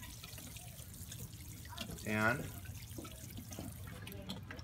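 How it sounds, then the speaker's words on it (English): Water poured onto newly planted squash in a garden bed, a brief splashing gush midway through, with a person talking before and after. "So we're gonna water that down."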